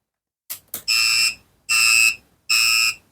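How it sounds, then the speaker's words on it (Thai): An electronic battery tester powers up with two short clicks followed by three loud, shrill beeps evenly spaced, close and piercing. "เปิดเครื่องมาก็จะเสียงดังประมาณนี้นะครับ"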